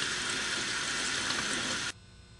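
A metal casting die being rinsed under running water. A loud, steady splashing stream hisses for about two seconds, then cuts off abruptly and leaves near silence.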